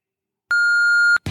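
A voicemail beep sounds once, a clean steady electronic tone lasting under a second after silence, followed by an abrupt burst of noise.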